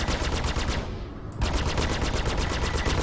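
Spaceship nose cannons firing in a video game, rapid machine-gun bursts in a dense, continuous rattle that pauses briefly mid-clip before resuming just as loud.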